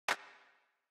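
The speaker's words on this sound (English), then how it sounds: "We have this clap" A single electronic clap sample from a house-music percussion layer: one bright, sharp hit that decays smoothly over about half a second, heard alone and close.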